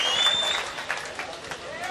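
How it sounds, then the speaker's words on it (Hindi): Applause from a mushaira audience in Malegaon welcoming the poet Shabina Adeeb, a fairly faint wash of clapping that runs steadily for about two seconds with a thin tone drifting over the top. "जोरदार तालियों से इस्तकबाल कर दीजिए मोहतरमा शबीना अदीब साहिबा का"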